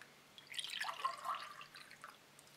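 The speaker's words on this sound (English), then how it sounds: "Let's pour some up." Swedish military ration isotonic drink trickles and splashes into a cup in a short, quiet pour with a few gurgling drips, no voices.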